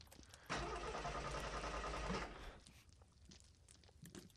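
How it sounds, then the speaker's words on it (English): A car engine in the survival horror game They Hunger cranks and catches, running loud and steady for about two seconds before dropping back to a quieter idle, with no one speaking. "you can literally drive the car, apparently"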